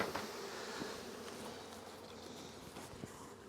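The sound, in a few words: honey bees buzzing around the hive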